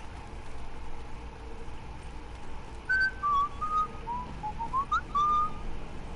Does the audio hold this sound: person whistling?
yes